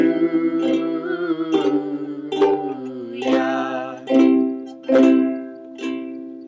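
A ukulele strums the chords of a song at a relaxed pace, each strum ringing out bright and close before the next, ending with a few fuller, slower strokes.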